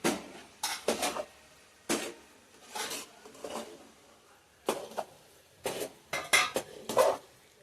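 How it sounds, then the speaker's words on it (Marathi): Flour and water are stirred in a metal pot for modak dough, producing a series of close, irregular scraping and clanking bursts of spoon against pot with quiet pauses between them. "आणि बघा असं मस्तपैकी ढवळून घ्यायचं"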